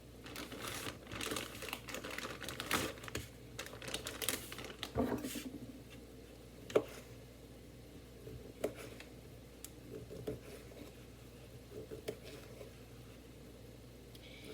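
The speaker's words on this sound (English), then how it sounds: "let's cut some of these potatoes out." Knife cutting potatoes onto a paper dish in a home kitchen, giving soft irregular tapping and crinkling clicks, quiet and close, with no talk.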